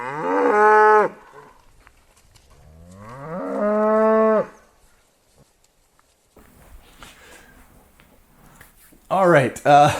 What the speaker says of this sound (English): The cows are mooing about something like crazy out there.